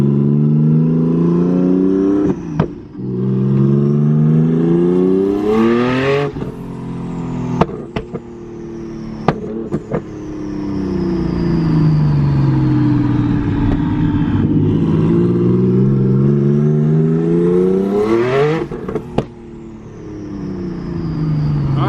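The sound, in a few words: rotary engine running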